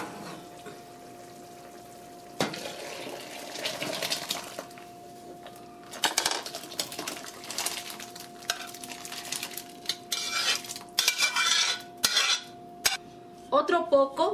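Sautéed tomato seasoning mixture is poured into a pot of cooked fava beans for soup. Metal utensils clink and scrape against the pot, and spoonfuls splash and sizzle in bursts that grow busier toward the end.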